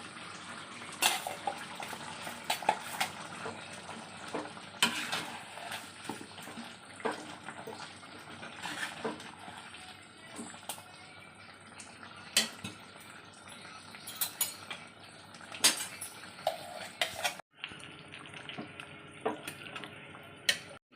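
Ground masala being added and stirred into a chicken curry, with scattered light clinks and taps of a spoon against a metal pot and soft wet sloshing, quiet and irregular, with one sharp louder scrape near the end.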